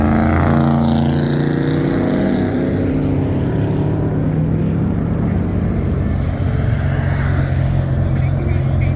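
A Ferrari driving off from a car meet in Las Vegas, a loud engine roar that swells and fades as it pulls away, with people talking nearby.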